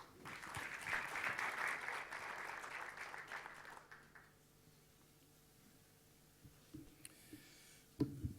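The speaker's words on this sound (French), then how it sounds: "Sous vos applaudissements." Audience at a conference on patient care applauding, a dense burst of clapping for about four seconds that then stops abruptly, leaving a quiet room with a few faint clicks and handling noises.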